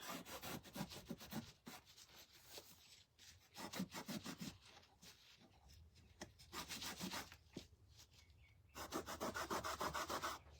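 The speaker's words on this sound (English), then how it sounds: "I'm just using the Minwax Dark Walnut and we're just getting it all stained up" Minwax Dark Walnut stain being rubbed onto a wooden stencil craft piece, with repeated close scrubbing and wiping strokes in uneven bursts, no talking.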